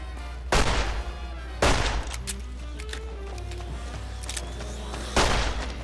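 Three heavy, booming shots from a futuristic magnum-like handgun in Fallout: New Vegas, spaced about a second and several seconds apart, loud and close, with faint game sounds between them.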